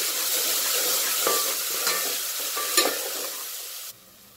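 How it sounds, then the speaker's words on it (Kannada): Ground masala roasts in a pan for mosaru saru, a curd curry, sizzling steadily and close while a spoon stirs and scrapes through it. The sound drops away abruptly near the end. "ಈಗ ರುಬ್ಬಿರೋಂಥ ಮಸಾಲ ಹಾಕ್ತಾ ಇದ್ದೀನಿ, ಸ್ವಲ್ಪ ಇದು ಅಕ್ಕಿ ರಸ್ನ ಹೋಗಬೇಕಂತ ರೋಸ್ಟ್ ಮಾಡ್ತೀನಿ."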